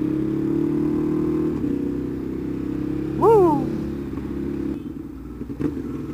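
A Ducati Hyperstrada motorcycle engine hums steadily up close, then gives one quick rev that rises and falls in pitch before settling back to a rumble.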